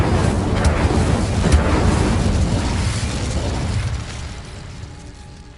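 An Incendio fire spell cast in the video game Hogwarts Legacy, a loud, sustained roaring blast of fiery rumble that slowly tapers off toward the end.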